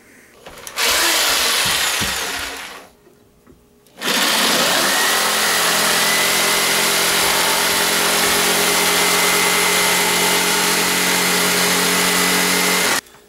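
A power tool cuts a small shim from a piece of 2x4 lumber. It gives a short loud run, stops briefly, then starts again for a long steady run of about nine seconds, with no talking.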